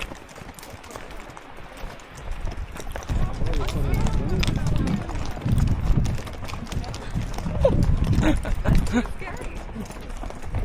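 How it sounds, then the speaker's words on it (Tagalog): Horse hooves clip-clop at a brisk pace amid rustling outdoor noise at Kaindy Lake, Kazakhstan, with people talking at moments over it. "This is my first time riding a horse and riding like this"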